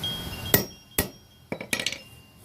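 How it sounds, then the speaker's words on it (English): Four sharp metallic taps from a hammer setting a snap fastener, spaced irregularly, the last a quick cluster of rapid light strikes, close and clear against a quiet background. "I'll just give it 1 or 2 more taps."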